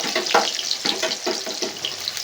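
Chopped onion frying in hot oil for Bengali desi chicken kosha, a steady broadband sizzle with a few louder stirring bursts throughout, close and continuous with no talking.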